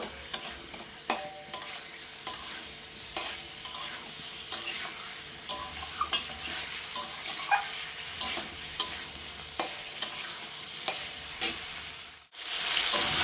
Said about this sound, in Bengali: এবার যে ইচোড়া আলুটা আমি ভেজে রেখেছিলাম এইগুলোকে দিয়ে দিচ্ছি দিয়ে ইচোড়া আলুর সাথে মশলাটা আবার আমি কষাবো আরেকটু